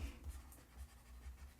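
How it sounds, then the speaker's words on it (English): A digital notebook pen scratches on an e-ink tablet screen in faint, quick, close strokes, a soft rhythmic scritching at low volume. "You hear that scritch? That's perfect."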